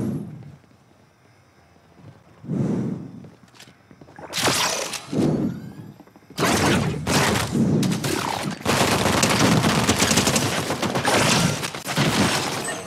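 Rapid automatic fire from dual micro SMGs in Fortnite, starting with short bursts and building into long, loud sustained volleys with sharp impacts mixed in.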